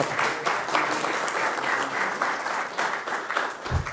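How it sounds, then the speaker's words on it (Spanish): An audience at a church and media panel discussion applauds steadily, a dense, even clatter of many hands clapping at moderate volume, sustained without pause and with no talk over it. "Así que un gran, un gran aplauso a JJ."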